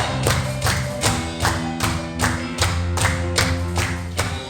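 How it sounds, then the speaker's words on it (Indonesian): A church congregation claps in praise, steady rhythmic hand claps about twice per second, loud and close, over sustained music with no talking. "Mari sama-sama kita tepuk tangan buat Tuhan, kepada Allah yang hidup."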